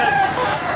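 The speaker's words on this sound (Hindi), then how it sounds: "देसी मुर्गियाँ आए हैं हमारे पास।" Desi chickens cluck and crow at a busy bird market, a dense, continuous layer of fowl calls filling the short stretch with no talk over it.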